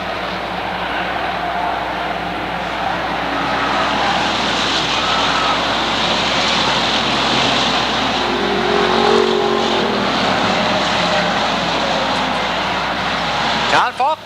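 Pure stock cars racing at Waterford Speedbowl, a sustained loud roar of several engines droning and shifting pitch as the pack circles, with an announcer talking over the noise.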